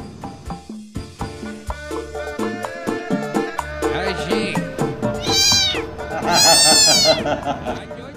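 A cat meows in a horror-comedy sketch, with the calls rising high and strained near the end over busy music and sound effects.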